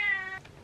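A single close cat meow, short and clear with a falling tail, heard alone indoors.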